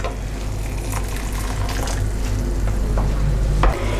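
Pea and broad bean risotto simmering in a pan as a ladle of stock is added and a spoon stirs through the rice, a steady close bubbling sizzle with soft scraping and occasional clinks.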